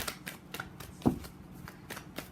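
Tarot cards being shuffled at close range, a run of quick papery riffles and soft slaps in an irregular rhythm, fairly quiet, with one sharper tap near the middle.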